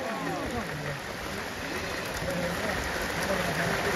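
Steady rain pours over a river at Nokil Beel in Sakhipur, Tangail, where people are swimming, a dense, even wash of falling water with faint voices in the background.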